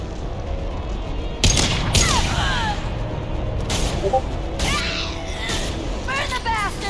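Gunfire in the video game Mass Effect 2, several sharp bursts of shots with whooshing streaks between them over a rumbling battle background, with a voice talking amid the fire.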